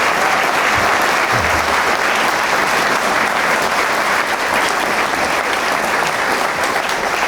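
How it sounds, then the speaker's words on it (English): At the close of a Hoover Institution interview with Senator Rob Portman, a large audience breaks into loud, sustained applause, an even wash of clapping that continues unbroken for several seconds. "Now applause."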